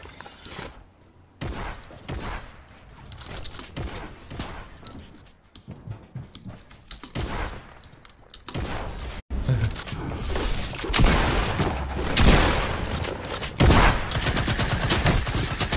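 Gunshots in the Fortnite video game, with repeated sharp shots and rapid bursts that start scattered and grow into denser, louder fire in the later half.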